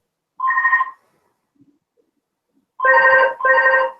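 A telephone rings loudly during an online coding session, one short ring burst followed after a pause by two more in quick succession, with no talk over it.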